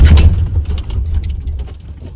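BMW engine revved at full throttle, a loud close roaring rumble that surges at the start and then fluctuates unevenly, no speech.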